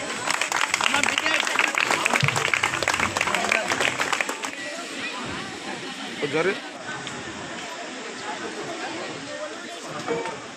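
Crowd applause at a village National Voters' Day ceremony where the sarpanch honours people, dense clapping for about four seconds, then thinning into scattered claps and murmuring chatter.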